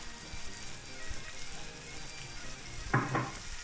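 Sausages sizzle steadily in a frying pan, a constant crackling hiss with small pops and a brief louder clatter near the end, heard close and without talk.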